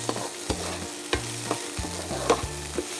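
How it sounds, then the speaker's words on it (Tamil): A spatula scrapes and stirs a soy sauce mixture in a hot pan for fish curry. The strokes come in quick, rhythmic scrapes over a soft sizzle, with no voices. "ஸோ இதெல்லாம் போட்டு நல்லா வந்து மிக்ஸ் பண்ணிக்கிறோம் இல்லையா?"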